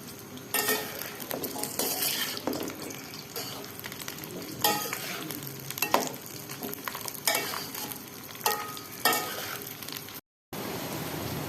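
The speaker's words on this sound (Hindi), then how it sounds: "जी हम अपनी भिंडी सबसे पहले फ्राई कर रहे थे।" Chopped okra fries in hot oil, a continuous crackling sizzle with frequent scraping and clinking of a spatula stirring against the pan; near and alone, ending in a brief dropout.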